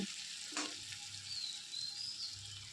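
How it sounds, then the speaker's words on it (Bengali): Chopped onion with grated ginger frying lightly in a pan for masala dosa filling, a steady soft sizzle with a brief stir scrape near the start, close and alone. "পেঁয়াজটা হালকা ভাজা হয়ে গেছে"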